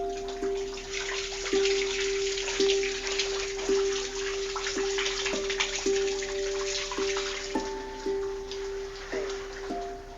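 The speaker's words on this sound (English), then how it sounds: "recorded what happens when someone has a shower in the bathroom above them" Water from an upstairs shower drips through a ceiling in a rundown rental home, with steady repeated drops plinking at a regular pace over a faint background hiss of running water.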